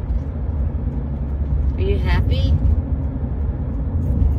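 A car rides along, heard from inside the cabin as a steady low engine and road rumble, with a pet parrot nearby and people talking over it; a short whistled chirp rises briefly midway.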